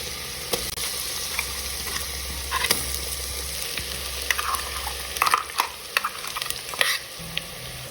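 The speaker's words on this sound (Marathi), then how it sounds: "तर हा मसाला आपण थोडासा परतून घेऊयात" An onion and coconut masala paste is sautéed in a clay pot for a village-style mutton dish: a soft, low frying hiss broken by repeated scraping stirs and clinks of the spoon against the pot, with no talk.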